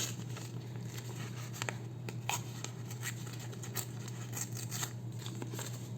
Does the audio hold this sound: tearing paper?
yes